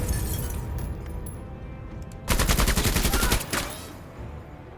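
Machine gun fire in the tactical video game Menace: a dense burst of rapid rounds erupts mid-clip and rattles for about a second, then trails off into quieter game ambience.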